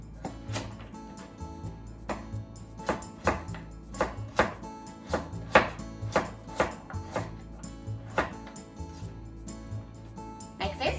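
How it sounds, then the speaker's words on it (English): A knife chops a peeled carrot into small pieces on a board, giving a quick run of close, sharp rhythmic knocks with brief pauses between bursts. "And just cut it into small pieces."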